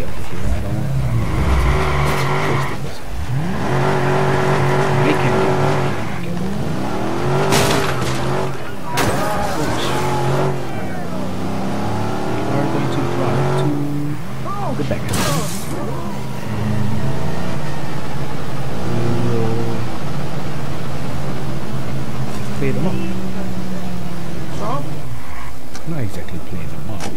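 Car engine in the open-world game Watch Dogs, revving and shifting with passing traffic and skids, loud throughout while someone talks over it.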